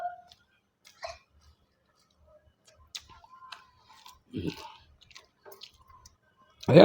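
Idli and rice balls being chewed, soft wet mouth sounds coming in scattered bursts at close range, with brief voices and a louder noise at the very end.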